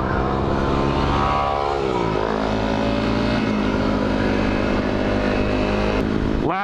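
A Yamaha WR250R dual sport motorcycle engine runs loud and close, its pitch rising and falling as the throttle is worked, then holding a steady drone before a sharp rev near the end.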